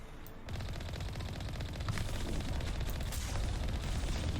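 Sustained automatic gunfire in the Mass Effect 1 Legendary Edition game, a loud, dense, continuous rattle of shots that starts abruptly after a brief quiet moment and carries on without pause.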